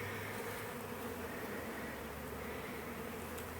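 A honeybee swarm hums steadily around its relocated hive on a tree branch in Winter Haven, Florida, a continuous, dense buzz that stays fairly faint and even throughout.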